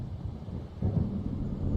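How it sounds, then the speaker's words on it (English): Thunder from an approaching storm in the video game Alan Wake: a low, distant rumble grows into a deeper rolling boom partway through, with faint wind underneath. "It seems there's a storm coming."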